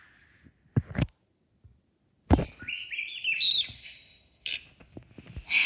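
A cartoon hummingbird chirps in a quick run of high, bright twittering notes, with a few short sharp clicks and taps just before it, fairly close and moderately loud.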